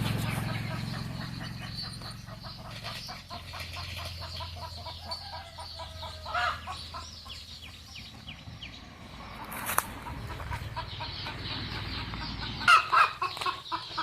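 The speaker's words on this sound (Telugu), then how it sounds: "అలాగే మన ఫామ్లో అయితే నాటుకోడి పిల్లలు కూడా మనం సేవ్ చేస్తాం" Giriraja chicks and hens cheep and cluck steadily in a busy poultry farm, with occasional louder squawks near the end and a low hum underneath.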